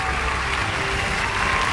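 Steady applause from a crowd fills the whole stretch, dense and continuous clapping at an even level with no pauses.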